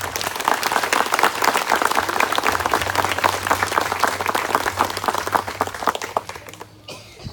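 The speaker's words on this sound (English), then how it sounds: "Can we get a round of applause for James Holt?" Loud crowd applause at a Memorial Day ceremony honoring a fallen serviceman named James Holt, dense continuous clapping that holds steady and then tapers off near the end.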